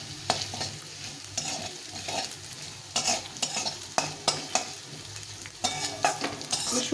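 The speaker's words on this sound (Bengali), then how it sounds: "আমি শুকনোভাবে এগুলো ভেজে নিলাম" Cumin and chili powder dry-frying in a pan over low gas for a banana-flower dish, a steady soft sizzle with repeated scraping stir strokes, close and without talk.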